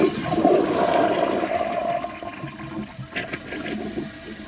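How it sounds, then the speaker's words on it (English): A ProFlo Gilpin toilet flushes with a dish towel in the bowl: a loud rush of water at the start that thins into a weaker swirling drain and trickle, with no voices. "The flush is so weak that it couldn't even move the dish towel to the middle."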